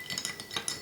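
A spoon stirring a drink of lemon lime soda, grenadine and cherries in a glass, with several quick, bright metallic clinks against the sides in an irregular rhythm, close and clear.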